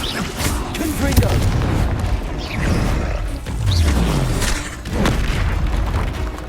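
Explosive Confringo spell blasts in the Hogwarts Legacy video game, a series of booming hits recurring every second or two over a busy combat background of crackles and rumbles.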